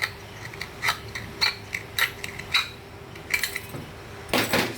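Scissors snip through a thin aluminium beer can, a series of sharp metallic crunching clips and crinkles spaced irregularly, close and fairly crisp against a quiet background.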